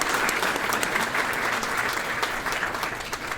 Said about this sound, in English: I'd like a round of applause for them on that.